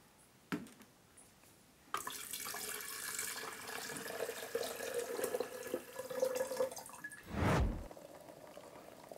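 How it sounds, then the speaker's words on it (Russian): Filtered water is poured gently into a teapot or vessel for brewing tea, a steady splashing fill that runs for several seconds and ends with a brief louder gush. "Водичку заливаем нежно, аккуратно."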